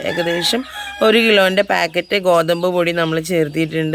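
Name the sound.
chickens clucking while being fed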